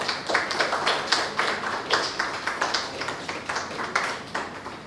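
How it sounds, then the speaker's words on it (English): An audience at a memorial lecture applauds for a professor, a steady stretch of brisk clapping at moderate distance with no voices over it. "Big clap, big hand to Professor Tapati"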